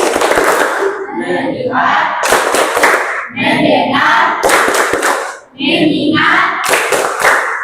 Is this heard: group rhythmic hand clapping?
yes